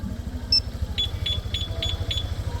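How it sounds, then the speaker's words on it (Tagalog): A two-way alarm fitted to a Honda Click V3 scooter gives a run of short, evenly spaced electronic beeps over a low engine idle. "Two-way alarm system."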